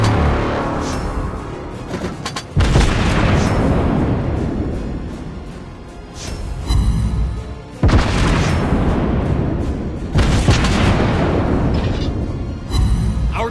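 Warship explosions boom repeatedly in World of Warships Blitz, Tier 8 respawn mode. Loud, heavy blasts arrive every few seconds, each swelling and then decaying into a rumbling tail with no voices.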